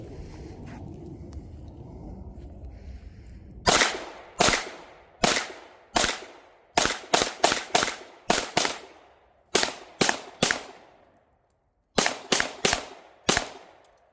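Shots from a Flux Raider pistol ring out about fifteen times, sharp close cracks in uneven bursts and singles, some fired quickly back to back, after a few seconds of low background noise.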